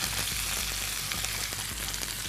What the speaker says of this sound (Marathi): बस तर ही मी थोडस परतून घेतो